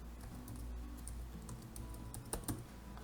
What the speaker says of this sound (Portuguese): Então o primeiro passo é digitar